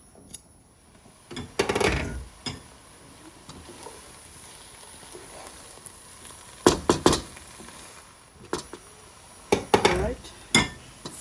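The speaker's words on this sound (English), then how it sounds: "So we'll put the lid back on and let it cook." A metal lid is set back onto a pot of Punjabi-style aloo gobi simmering with potatoes and cauliflower, giving brief clinks and clatters in a few separate bursts over a quiet kitchen background with faint sizzling.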